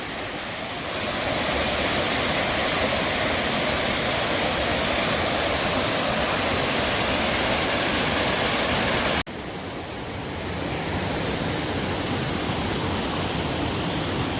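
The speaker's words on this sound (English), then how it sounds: "Creek crossing." Creek water rushes steadily in a loud, close broadband roar during a backpacking creek crossing in the Forney Creek backcountry, with a brief dip midway before the flow resumes.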